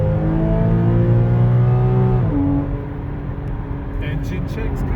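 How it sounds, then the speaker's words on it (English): A Porsche engine runs and revs during a DIY intermediate service, a loud sustained rev whose pitch drops midway and settles into a lower idle, with a few faint clicks near the end. "Should we really make sure that the engine's working?"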